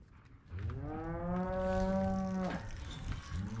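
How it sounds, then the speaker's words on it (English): Cattle low in a ranch holding pen during spring cattle work: one long, loud, close moo with a rising then sustained tone, and a fainter second call starting at the end. "We are now bringing the cattle up from the holding pen."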